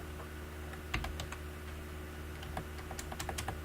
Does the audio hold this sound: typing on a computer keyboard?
yes